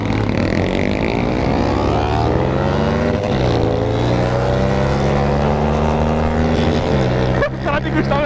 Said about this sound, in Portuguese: Como assim essa moto tá andando tanto?